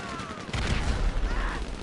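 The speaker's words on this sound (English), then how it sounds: "I am not hitting them with the explosives." Gunfire and explosions from GTA Online, a short dense burst of shots with a booming blast in the middle, loud and close, without talking.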